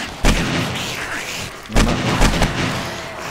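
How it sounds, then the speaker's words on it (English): Gunfire from an AK rifle in the video game Killing Floor, fighting monsters near barbed wire: two or three loud, sharp blasts with boomy tails over a steady dense background of game noise. "He walks straight into an AK round."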